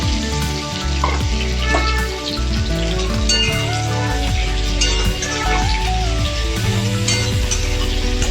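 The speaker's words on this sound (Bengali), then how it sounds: "পেঁয়াজটা একটু গোলাপি গোলাপি করে ভাজবো।" Two large chopped onions fry in oil seasoned with bay leaves and a black cardamom, producing a loud, dense, unbroken sizzle with tonal music playing underneath throughout.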